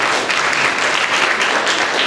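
Steady, dense audience applause with continuous clapping at an even, fairly loud level throughout, no individual claps standing out.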